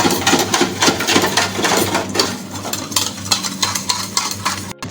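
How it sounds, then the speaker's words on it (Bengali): A utensil whisks sour yogurt with sugar in a bowl, producing rapid, close, rhythmic scraping and tapping strokes that run the whole time with no talking. "চিনি দিয়ে টক দইটাকে ভালো করে ফেটিয়ে নেব"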